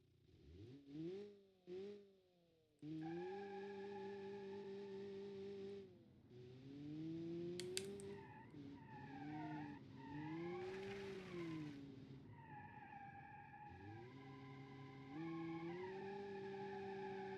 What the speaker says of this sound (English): So first of all, I'm gonna drive the base car for reference